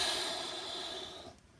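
A powerful, forceful exhale during Pilates breathing, a close, breathy rush of air that holds steady and then fades out over about a second and a half.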